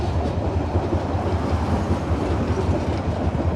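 A train rumbles past on the railway beside a rural wetland, a loud continuous roar with rhythmic wheel clatter on the tracks throughout, no talking.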